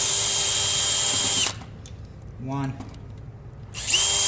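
A power drill backs screws out of a panic-bar door handle during a lock change, its loud steady whine running for about a second and a half, stopping, then starting again at the end, with a brief spoken word in the quiet gap.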